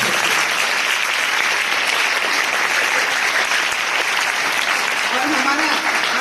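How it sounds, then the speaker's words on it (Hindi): Loud, sustained applause from an audience at a Hindi Diwas school poetry gathering after a long recital, dense even clapping filling the room throughout, with a brief voice rising faintly near the end. "तो जितनी लंबी कविता थी उतनी लंबी तालियां भी होनी चाहिए।"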